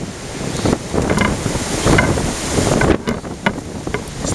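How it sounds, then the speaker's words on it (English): Steady wind gusting through a forest on a walking route, a continuous loud broadband rush with surging peaks, close and buffeting the microphone, no voices. "Despite being in a forest, it's still a bit blowy, and it isn't changing direction either"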